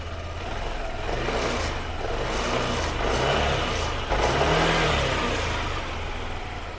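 A Yamaha Aerox Connected scooter engine, running rough after running out of oil and with its air filter box left unbolted, revs up repeatedly in close, loud surges with a brief dip midway.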